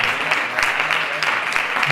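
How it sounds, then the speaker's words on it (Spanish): A church congregation applauds during a service, a dense, steady wash of clapping from many hands filling the room, fairly loud and continuous throughout. "Mientras la iglesia aplaude."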